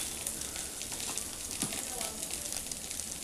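Turmeric and chilli powder sizzle in hot oil in a pan, a steady close frying hiss with soft crackles throughout, no one talking.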